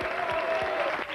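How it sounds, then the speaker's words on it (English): Wedding guests break into applause right after the vows, a dense burst of clapping from a crowd filling the whole moment, steady and fairly loud with a faint voice or tone running underneath. "And let's give them a clap, shall we?"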